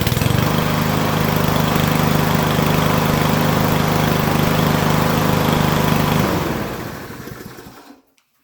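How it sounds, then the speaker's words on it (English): A Troybilt TB 105 mower engine fitted with a new ignition coil runs steadily at a loud, even idle close by, then cuts off and sputters to a stop near the end. "So this is the Troybilt with the new coil that I borrowed from mine."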